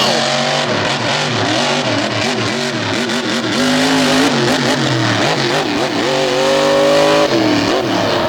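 A custom one-off TMS pulling truck with Richard Midget power in the back revs hard at a 2022 Hagerstown pulling event, its loud engine note climbing and falling in repeated surges that fill the whole stretch.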